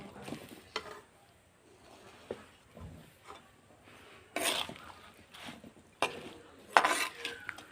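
Homemade spices are stirred into lemon pickle in a pot of oil, with scattered scraping and clinking strokes of a spoon against the pot at irregular intervals and quiet stretches between them.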